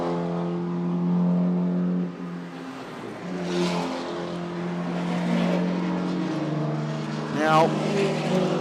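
Race car engines droning steadily on the back straight at Queensland Raceway, with a louder engine sweeping past near the end, under continuous commentary.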